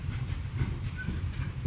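A train rolls past with a continuous low rumble and faint rhythmic clatter of wheels, close and steady throughout the short stretch, with no voices.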